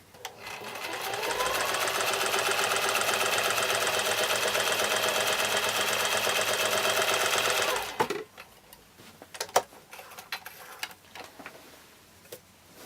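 A sewing machine runs in one long continuous burst while stitching a quilt block, a fast even whirring hum for about seven seconds. It then stops, and a few light clicks and handling knocks follow.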